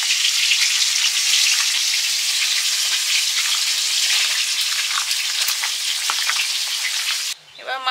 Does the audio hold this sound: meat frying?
yes